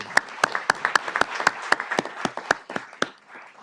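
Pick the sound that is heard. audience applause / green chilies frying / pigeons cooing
audience applause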